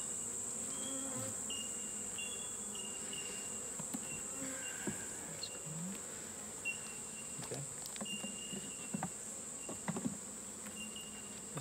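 Honey bees buzz steadily around a beehive nuke being opened for inspection, with a new queen still in her delivery box. The close, continuous drone and whine carry through the whole stretch, with a few small knocks and ticks from the hive and no talking.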